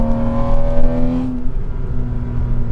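A 2006 Porsche 987 Cayman S engine runs close by with a smooth, tonal hum that rises briefly, then settles into a steady idle-like drone, with no voices over it.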